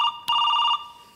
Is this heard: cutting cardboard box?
no